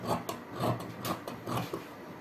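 Scissors slicing through dress fabric for an XXL pleated dress, a series of close, dry rasping snips and crunches repeating irregularly, moderately loud with no talk.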